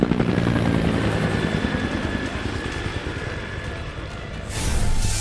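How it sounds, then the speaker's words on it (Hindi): Cartoon helicopter starting up and flying off, a loud steady rotor chop and engine whine throughout, swelling briefly at the end. "फिर वहाँ से गुल्ली बुल्ली और सोन हेलीकॉप्टर स्टार्ट करके वहाँ से भाग जाते हैं।"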